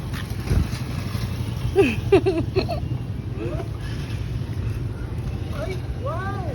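A motorcycle engine rumbles steadily at close range, a low droning hum running under people talking.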